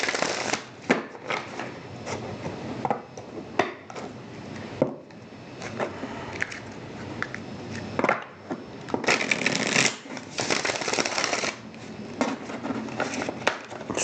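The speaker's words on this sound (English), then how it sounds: "See what I mean about the cards sliding everywhere?" Tarot cards are shuffled and slide against each other in bursts of crisp riffling and soft scraping, close and fairly quiet, with no talk.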